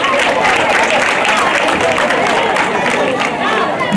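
An audience at a children's Christmas tree charity event in Abobo applauding, a dense, continuous wash of clapping mixed with crowd noise throughout.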